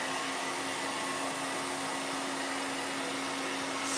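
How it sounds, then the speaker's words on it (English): A hair dryer blows continuously at close range, a loud, steady whooshing roar with a constant motor hum and no other sounds. "last time for the hair dryer for now"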